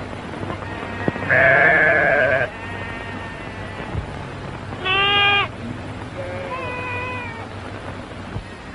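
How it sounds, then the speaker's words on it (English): Sheep bleat while being herded on a ranch trail, with a long loud bleat followed by two shorter, fainter calls spaced across the clip, heard alone over steady outdoor background noise. "At the rate you've been moving these sheep"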